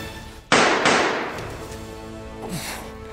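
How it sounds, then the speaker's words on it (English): Two sharp, loud gunshots ring out close by in a staged action-comedy shootout, the second following less than half a second after the first, then a sustained tonal ring fades over the remaining seconds. "Nice shooting."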